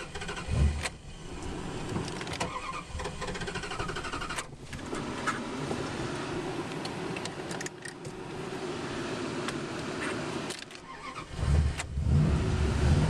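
A Dodge Dakota engine running on wood gas idles rich and rough with a steady droning hum, close and continuous, with a couple of louder surges and thumps near the start and end.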